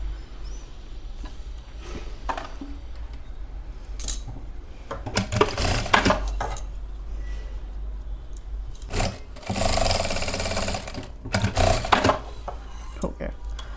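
Sewing machine stitching a plazo pant seam, short bursts of fast mechanical whirring and clatter separated by pauses, close by, with someone speaking quietly between runs.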